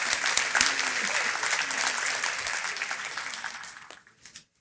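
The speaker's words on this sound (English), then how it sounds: "Amber really does amazing work, so another round of applause for her." Breakfast-event audience applauding for Amber, a lively burst of many hands clapping with a voice or two murmuring beneath, tapering off and stopping after about four seconds.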